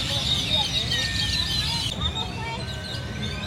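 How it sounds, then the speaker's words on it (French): Birds chirp and sing steadily outdoors at a village near Chichen Itza, a dense high twittering bed that runs throughout beneath a person talking close to the microphone. "je sais pas si vous entendez avec le bruit des oiseaux"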